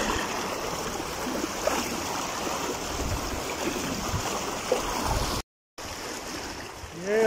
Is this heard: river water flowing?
yes